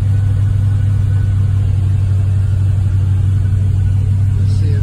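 A carbureted V8 in a 1953 Hillman runs after a cold start, a loud, steady, low idle drone heard close up with no one speaking.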